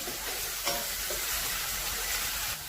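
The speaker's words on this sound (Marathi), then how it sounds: "हे वाटण व्यवस्थित परतून घ्यायचं" Masala paste sizzles steadily in hot oil in a pan on the stove, a continuous crackling fry with soft stirring scrapes and no talk.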